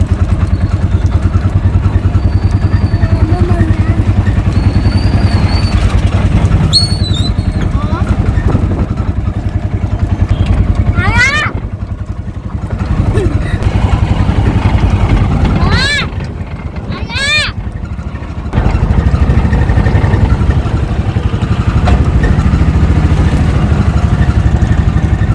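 An auto-rickshaw drives through heavy rain, its engine droning close and steady for the whole stretch with a brief dip midway, while people talk over it.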